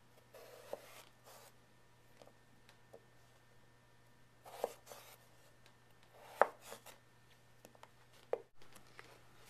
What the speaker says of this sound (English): Just carefully cut off the rounded edges.